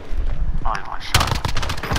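Gunfire in the video game Call of Duty: Modern Warfare, a loud close burst of sharp shots following a moment of quieter game ambience.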